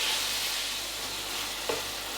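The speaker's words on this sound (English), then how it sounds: "Keep breaking up any lumps with the back of your wooden spoon, because you don't want any great big heavy lumps" Minced beef frying in a pan and being stirred and broken up with a wooden spoon, a steady close sizzle with a brief scrape of the spoon near the end, no talking.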